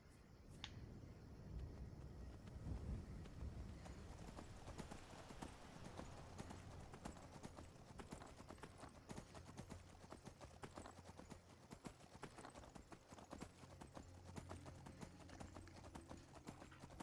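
Steady hoofbeats of a horse clip-clopping in the game Skyrim, a continuous rhythmic clatter running the whole way through at moderate level, with a faint ambient bed beneath.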